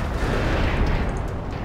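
An explosion in the World War II strategy game Company of Heroes, during a battle on the Eastern Front, gives a dense, rumbling, booming roar that fills the short moment and stays loud throughout.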